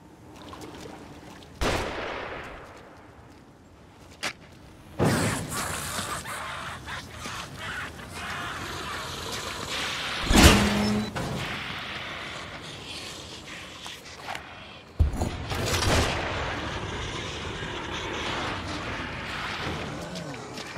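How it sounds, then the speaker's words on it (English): Enemies fire guns in the survival horror game The Evil Within, with sharp gunshot bursts and impacts scattered among game effects. Some shots are loud and close, others more distant, and a player talks over the action. "Find cover. They're shooting."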